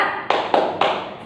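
A classroom group of children doing a rhythmic cheer clap, three sharp, even claps in quick succession, close and loud.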